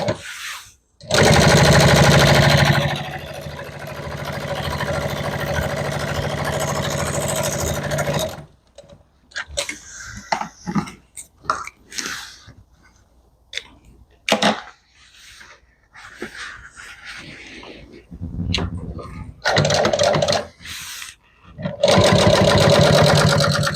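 Sewing machine stitching upholstery, a loud rapid mechanical whir in long bursts that then breaks into short stop-start runs as the bobbin runs out, with quiet gaps in between.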